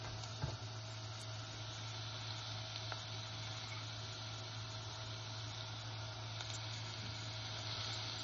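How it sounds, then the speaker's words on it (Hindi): Mixed vegetables for pav bhaji, including carrots, potatoes and capsicum, fry over high heat in a pan, giving a steady, even sizzle throughout with a faint occasional scrape of stirring. "सारी सब्जियां एक साथ तेज आंच पर थोड़ा सा मिक्स कर लेते हैं।"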